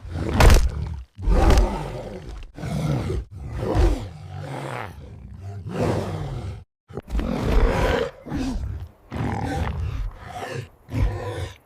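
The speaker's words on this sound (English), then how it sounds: "Roaring!" A saber-toothed tiger roars repeatedly in loud, close bursts, deep growling roars separated by short pauses, with a dramatic soundtrack-like layer beneath.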